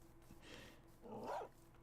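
Dogs in the Minecraft video game give a couple of faint, short yelping barks, one of them brighter and more whining, over a quiet low hum with no talking.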